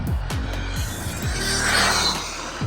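An Arrma Limitless V2 RC car on its first run gives a loud electric motor whine that rises sharply in pitch several times in quick bursts, then settles into a sustained high-speed hum.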